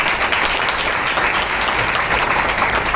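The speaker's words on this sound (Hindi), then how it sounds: "उत्तम सर के लिए एक जोरदार तालियां चाहिए" An audience at a Vestige event bursts into sustained, dense applause, a steady wash of many hands clapping with no pauses.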